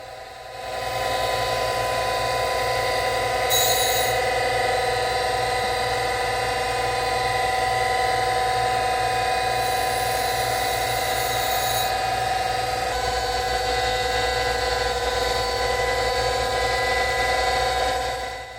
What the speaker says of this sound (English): go ahead and dress this wheel, get a nice clean dress on it